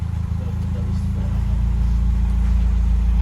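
A classic Subaru Impreza runs with a deep, steady exhaust rumble that holds at a constant drone throughout, close by and loud, with faint talk beneath.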